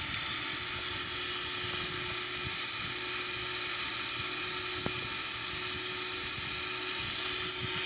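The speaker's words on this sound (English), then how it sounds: "You can see the thrust increases all the way up to the takeoff limit." Boeing 777-300ER engines in a flight simulator game, heard as a faint, steady whining hum with a thin high tone and a light mechanical rattle, continuous and without voices.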